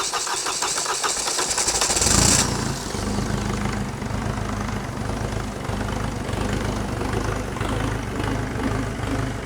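A Citroën car engine cranks and catches with a loud rising roar, then settles into a steady, close, rough running note that holds at a constant speed with no voices.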